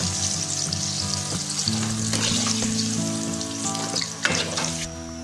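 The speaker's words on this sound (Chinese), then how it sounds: "中火慢炸，勺子不停翻动，使其受热均匀， 炸至表面焦黄，控油捞出。" Eggplant pieces deep-fry in hot oil over medium heat with a steady, close sizzle, while a spoon keeps stirring them, adding soft clinks and scrapes over faint background music.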